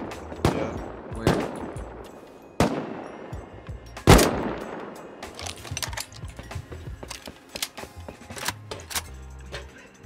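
Several sharp gunshots crack out in a video game, single reports and short bursts spaced irregularly with a few louder close blasts, echoing tails and rattling mechanical clicks between them, no talking.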